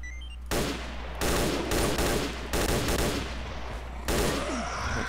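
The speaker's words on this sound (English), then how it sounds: "Oh shit, that was a lot of bullets." Dense bursts of automatic gunfire in STALKER Shadows Addon, loud sustained volleys separated by brief lulls, with a final burst near the end.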